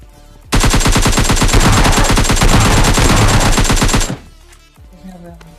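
S12 shotgun fire in the mobile battle game PUBG Mobile Lite: a loud, dense burst of rapid, evenly spaced shots lasting about three and a half seconds, then quieter game ambience.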